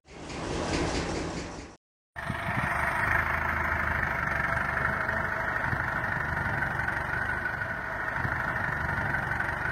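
A loaded tractor's engine idles near a steep riverbank with a constant, rough mechanical drone. A brief noisy burst and a short silence come before the long, steady running sound.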